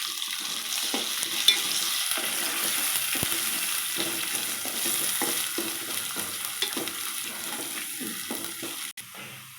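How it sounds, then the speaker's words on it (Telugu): Ginger, onion and a handful of mint fry in a pan, giving a steady soft sizzle with scraping stir strokes throughout, moderately close, with one sharp clink near the end and no talking. "ఈ అల్లం ఉల్లిగడ్డ ఈ పచ్చివాసన పోయిన దాకా వేపుకోవాలండి"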